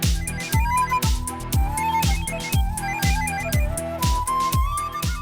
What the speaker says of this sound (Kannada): ರಿಂಗ್ ಆಗ್ತಾ ಇದೆ.